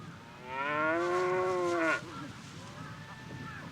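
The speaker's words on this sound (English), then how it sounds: "A herd of cows seems to be the cause of alarm." Cattle lowing in a Hokkaido marsh setting: one long, loud, drawn-out moo of about a second and a half, followed by fainter, more distant lowing from other cows in the herd.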